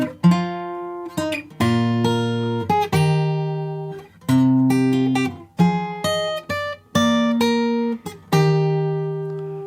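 Fingerstyle acoustic guitar in standard tuning plays the opening line of a tune from Deltarune in 3/4 time: clear plucked melody notes over bass, with a few short pauses between phrases, close and alone with no talking.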